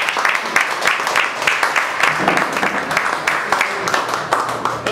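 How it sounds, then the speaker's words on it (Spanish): An audience at a café cultural event in Tampico applauds to welcome a guest. Close, loud clapping comes in quick crisp strokes that rise and fall in a steady, lively patter. "Un aplauso, por favor, para él."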